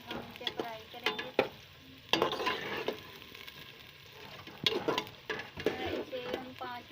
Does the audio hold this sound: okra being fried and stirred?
yes